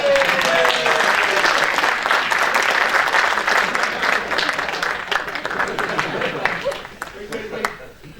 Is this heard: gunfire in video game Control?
no